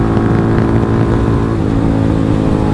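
A Df250rts motorcycle with a changed sprocket pulls hard in third gear, its engine droning loud and steady throughout and climbing slightly in pitch, close to the rider.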